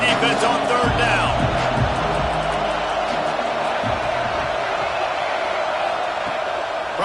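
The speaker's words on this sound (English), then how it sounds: "Decibels rising as the crowd gets behind this defense on 3rd down." Football stadium crowd noise swelling on third down during a Broncos vs Bears game, a loud continuous roar with scattered cheers and thumps, with commentary voices over it.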